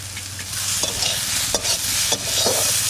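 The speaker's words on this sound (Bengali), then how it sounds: "আর কোনটা ভাজা ভাজা হয়ে গেছে, এবার আমি নিম পাতাটা উপর দিয়ে ছড়াই দিয়ে নামাই দেবো।" Whole eggplants frying in a pan with neem leaves, a loud steady sizzle with a low hum beneath and occasional scraping stirs of a spatula, no voices.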